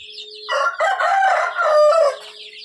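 A large rooster crows once, loud and close, a long strained call of roughly two seconds rising and falling, in a farmyard flock of native and BV3 chickens.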